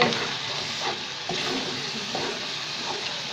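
Curry (salan) frying in a pot in a home kitchen in Karachi, a steady broadband sizzle and crackle with soft stirring knocks, close and alone without talk.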